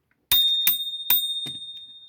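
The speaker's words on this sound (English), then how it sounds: "when someone wants to stop they can ring the bell" A small bell on a model bus is rung four times in an uneven sequence, each bright metallic ding ringing on with a lingering tone, alone and close.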